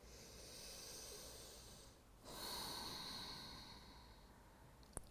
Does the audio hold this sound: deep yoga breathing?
yes